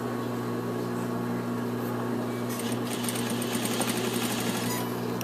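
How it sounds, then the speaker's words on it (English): A sewing machine runs steadily, edge stitching a suit collar, with a continuous motor hum and a rapid needle rattle that grows louder and busier in the second half; no one speaks. "I'm going to edge stitch"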